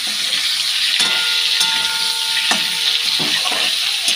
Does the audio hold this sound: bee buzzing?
no